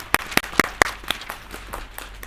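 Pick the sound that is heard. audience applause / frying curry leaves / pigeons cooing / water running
audience applause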